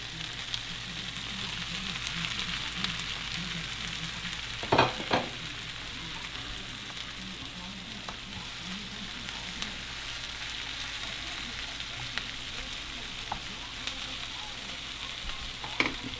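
Mushrooms frying on a charcoal grill give off a soft, steady sizzle and crackle, fairly quiet and continuous, with a couple of brief louder clicks or scrapes partway through.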